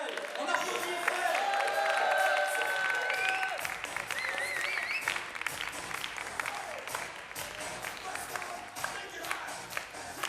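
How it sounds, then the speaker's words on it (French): An audience at a slam poetry event applauds a poet, a sustained dense wash of clapping with some cheering, lively and fairly loud throughout, with a voice briefly audible near the start. "on applaudit Eiffel."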